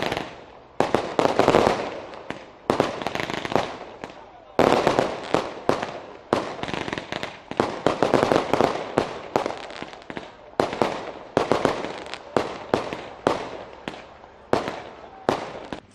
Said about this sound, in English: while fireworks displays added color and glitz to